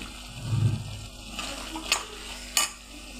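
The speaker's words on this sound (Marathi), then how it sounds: "थोडं परतू देऊ आपण तीळ आणि 2-3 मिनटं आपण परतू देऊ." Ground sesame seeds sautéed in a pan for a mixed vegetable dish, a low sizzling hiss with stirring scrapes and a couple of sharp clinks from the utensil against the pan.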